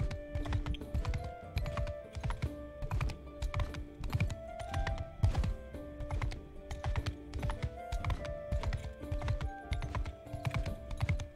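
Horse hooves clip-clop steadily in Mount & Blade II: Bannerlord while a rider travels on horseback, a fast continuous rhythm of close, loud footfalls with faint tonal game sounds underneath and no talk.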